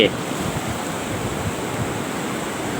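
Sea waves washing onto Hua Hin beach in Thailand at sunrise, heard as a steady broadband rush of surf blended with wind buffeting the microphone, continuous and fairly loud with no voices.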